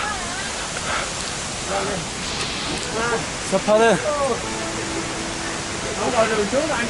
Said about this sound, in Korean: 여러분 드디어 실버 폭포에 도착했습니다